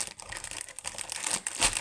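Plastic wrapper of a roll cake snack crinkling up close in irregular rustling bursts, moderately loud with no talk over it.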